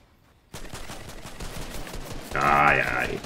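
Rifle fire from many players at once in a shooter video game, a dense rattle of rapid shots close by, with a louder burst near the end.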